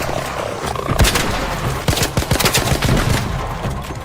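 Gunfire in the video game ARC Raiders, a loud barrage of overlapping shots and bursts, some rapid like automatic fire, with sharp cracks clustered near the middle over a dense noisy backdrop.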